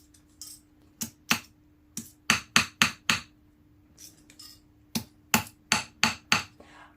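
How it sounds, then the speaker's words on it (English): A standard hammer flattens scrap sterling silver for a turquoise pendant, landing a dozen or so sharp metallic blows, singly and in quick clusters, close and loud over a faint steady hum. "I seem to have better luck with just a standard hammer, flattening pieces out."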